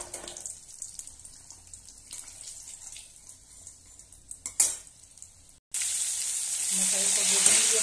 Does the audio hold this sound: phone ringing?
no